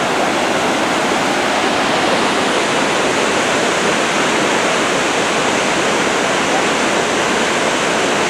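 A river rushes near a waterfall in Umpqua National Forest, a loud, continuous roar of white water that stays unbroken and even from start to finish.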